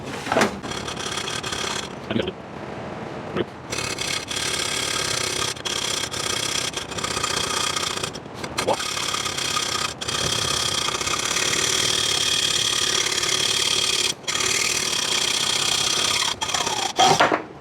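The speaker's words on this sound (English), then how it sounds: "So let's go ahead and grab a hacksaw and get to it." Hacksaw cutting through a metal tube for a Volkswagen air-cooled shift coupler upgrade, a steady rasping back-and-forth sawing that runs close and loud for most of the stretch with a few brief pauses between strokes.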